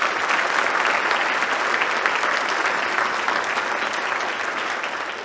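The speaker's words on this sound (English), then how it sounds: "a round of applause" A large crowd at a National Honor Society induction ceremony applauds steadily and evenly throughout, a broad sustained wash of clapping that eases only slightly toward the end.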